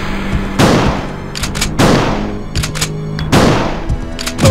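Three booming shotgun blasts from Resident Evil 2, evenly spaced about every 1.4 seconds, each loud and close with a long decaying tail over a low game ambience.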